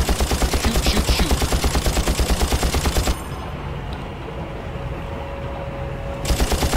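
Rapid automatic gunfire from the video game Far Cry during a beach assault, loud, steady bursts that stop midway, leaving a quieter ambient stretch before the firing resumes near the end.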